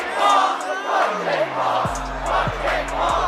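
A concert crowd chants in unison at a hip-hop show, rhythmic massed voices rising and falling in repeated bursts, with a heavy music bass thumping in underneath.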